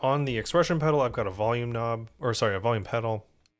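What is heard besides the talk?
None of the usual background noises is heard.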